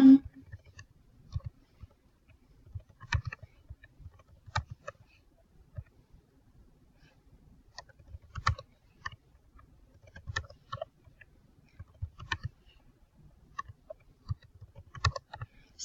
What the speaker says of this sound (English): the very first thing I'm going to do is start typing in my days